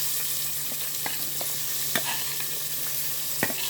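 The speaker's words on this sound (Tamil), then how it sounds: "வெங்காயத்தை வதக்கிட்டு இது போட்டுக்கணும்." Onions sauté in hot oil with spices, giving a steady close sizzle punctuated by light clicks and taps of stirring against the pan.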